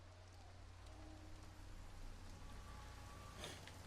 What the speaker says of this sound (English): Oh, we've got some weather effects now. Some bloody nice rain effects.